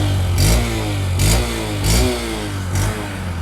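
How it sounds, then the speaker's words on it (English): Honda SP125 BS6 motorcycle engine running through its exhaust, a steady mid-pitched idle rising in four short revs at regular intervals, close and fairly loud. "So this is how the exhaust sounds."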